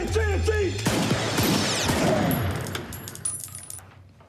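Gunfire in a French-language film excerpt: a dense, loud burst of shots over the first seconds that thins into scattered cracks and trailing noise, with a voice calling out briefly at the start.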